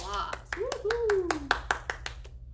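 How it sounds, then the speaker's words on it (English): A small group at a public library story time claps in a quick run of sharp, separate hand claps, with a voice whooping a rising cheer over them. "Let's give him a round of applause"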